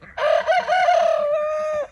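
A rooster on a family farm crows once, loud and close, with a long drawn-out final note lasting over a second.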